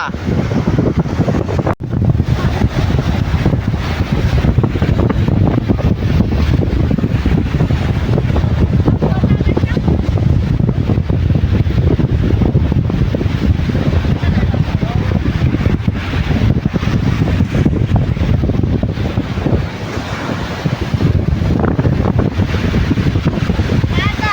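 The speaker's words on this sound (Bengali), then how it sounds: "এখানে ঢেউয়ের তাণ্ডবটা দেখো, আসলি ঢেউ তো এখানে" Sea waves crash and churn on the Bay of Bengal shore at Bakkhali and Frasergunj, under steady, loud wind buffeting the microphone for the whole stretch, with no clear breaks.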